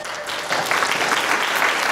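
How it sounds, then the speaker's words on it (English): Audience at an Alzheimer's Association summit giving a round of applause, a steady, loud, close wash of clapping that swells slightly after the start. "Can we get a round of applause?"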